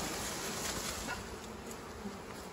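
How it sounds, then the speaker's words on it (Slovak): A honey bee swarm, just shaken into a box, gives off a steady, dense buzzing hum that stays constant and fairly soft throughout, with no talk. "No, teraz sme striasli, počkáme, nech včely dostanú naspäť."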